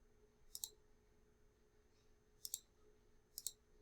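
Keys clicking on a graphing calculator as an equation is typed, with three short, sharp bursts of presses spread apart in a quiet room.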